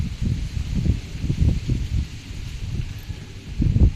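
Breeze stirring foliage along a concrete-edged canal by a mangrove temple, a steady low rushing hiss with gentle gusty swells, fairly close and continuous, with no talk.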